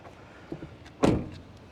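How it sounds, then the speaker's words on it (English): A door on a 2023 Toyota Highlander Platinum swings shut with one solid, muffled thud near the end, preceded by faint handle and latch clicks in a quiet setting. "let's check how the doors sound when you close it on this Highlander"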